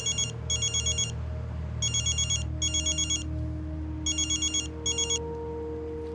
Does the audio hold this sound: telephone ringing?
yes